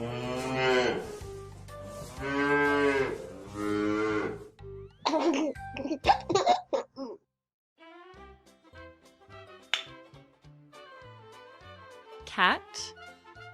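A toy cow gives two long, loud electronic moos, followed by bright toy music with a gentle tune and jingling notes.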